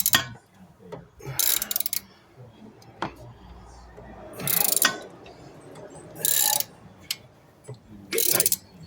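Ratchet tightening bolts on a Ford Bronco, with several loud bursts of rapid clicking separated by pauses, close by, mixed with clanks and handling noise.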